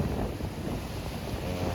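Strong sea wind at Marina Beach in Chennai buffets the microphone with a loud, continuous rumbling gust, and breaking surf mixes into the roar.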